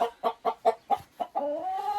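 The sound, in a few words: chickens clucking, rooster and hens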